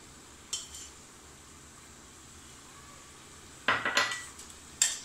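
Mutton for Bhopali wedding-style biryani being stirred in a pot, with a few close scrapes and clinks of a spoon against metal over a faint, steady frying hiss, the strokes bunched near the end.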